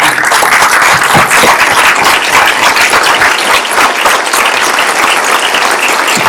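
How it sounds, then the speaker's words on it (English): A crowd at a US Senate candidate debate applauds loudly and continuously, a thick, even roar of clapping with no pause for the whole stretch. "So please join me in giving these folks a round of applause."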